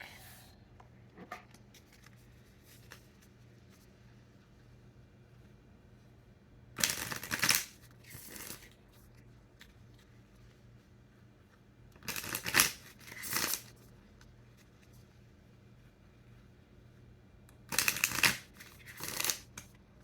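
Fin de siècle Kipper cards being shuffled in three separate bursts of quick papery riffling, each a couple of seconds long, with quiet room tone and faint soft handling in between.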